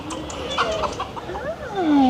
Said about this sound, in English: we are greeted with chickens and more chickens.